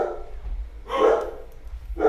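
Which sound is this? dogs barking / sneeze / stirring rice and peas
dogs barking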